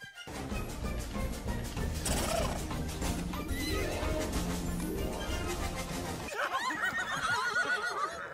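Horses neigh and whinny loudly in an animated children's film about a bull, with clip-clop hoofbeats and busy soundtrack noise running continuously, then a brief drop before more bright whinnying at the end.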